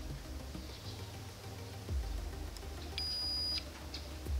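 A homemade Arduino metal detector with a searching coil beeps as it is switched on, giving a short, thin electronic tone or two over a faint background hiss.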